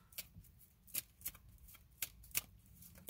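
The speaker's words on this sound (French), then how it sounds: "je veux te sortir une petite carte pour..." Oracle cards shuffled and drawn by hand, giving a series of quick, soft riffling bursts at an uneven rhythm, close and fairly quiet with no talk over them.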